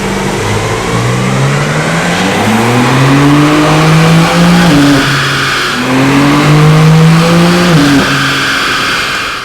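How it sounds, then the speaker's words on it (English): A G80 BMW M3 Competition engine on a dyno, running in rear-wheel-drive mode, revs hard and loud, pitch climbing in long sweeps, dropping, then climbing again in a second sustained pull. "we're going to run it in just rear wheel drive mode"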